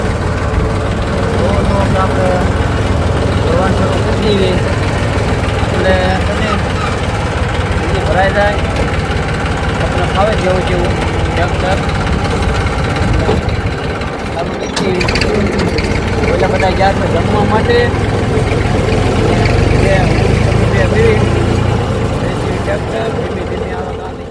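A tractor engine runs steadily at close range, a loud continuous idle-like drone with a brief dip midway, while people talk over it.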